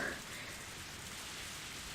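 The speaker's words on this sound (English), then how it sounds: "The rain began to pick up." Steady rain hiss from the Higurashi video game, a dense, even wash of falling rain that holds constant with no clear individual drops and no voices.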